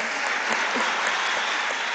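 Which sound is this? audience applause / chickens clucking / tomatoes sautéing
audience applause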